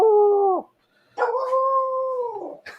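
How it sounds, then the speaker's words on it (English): A pet dog howls on command in two long, steady, tonal wails separated by a brief pause, loud and close, with a short burst of other noise at the very end. "Want to hear my dog howl?"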